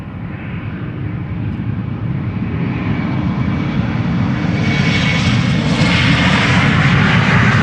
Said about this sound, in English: there is a KLM 747 also coming this way